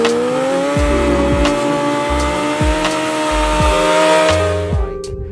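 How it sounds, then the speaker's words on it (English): A motorcycle burnout with the tyres spinning, the engine held loud and high with repeated revving swells and a steady tyre screech on top, close and continuous until it cuts off. "Rick was doing some massive burnouts on my bike"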